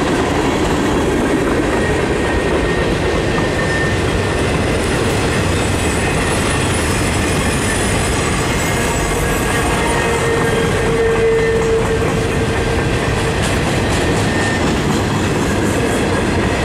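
A freight train loaded with pipe rolls past close by in a loud, unbroken rumble and clatter of wagons, with a brief wheel squeal partway through.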